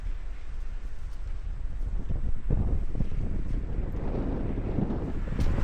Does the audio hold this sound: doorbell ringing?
no